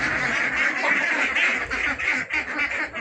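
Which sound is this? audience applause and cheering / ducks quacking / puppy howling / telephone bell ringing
ducks quacking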